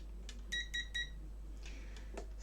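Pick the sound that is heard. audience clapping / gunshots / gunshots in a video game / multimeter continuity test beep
multimeter continuity test beep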